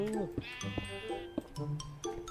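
Sheep bleat in the Minecraft video game at an automatic wool farm, several wavering bleats overlapping with clicking block sounds, while someone talks quietly underneath.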